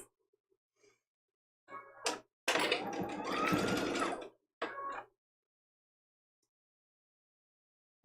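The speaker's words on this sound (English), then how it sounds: "We're going to take this to the sewing machine" A sewing machine stitches a foundation paper-pieced quilt block in several short bursts, with one long steady run in the middle. The whirring is close and clear, with short pauses between runs and quiet moments before and after.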